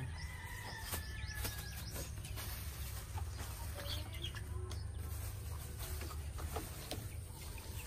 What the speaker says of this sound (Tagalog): Yan, may manok pang.